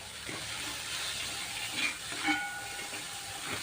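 Potato, carrot, green beans and cauliflower sautéing together in a pan for veg pulao produce a steady, even hiss with a few faint tonal whines, and nobody talks.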